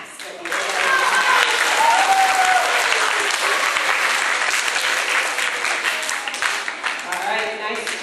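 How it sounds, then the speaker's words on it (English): A school assembly audience in an elementary school claps loudly for the art teacher, a sustained burst of dense applause with some voices and calls mixed in, easing slightly toward the end. "a big round of applause for your art teacher, Miss Colquitt."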